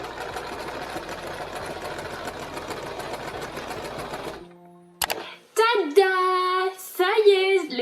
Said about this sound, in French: je vais faire une surpiqûre tout le long du galon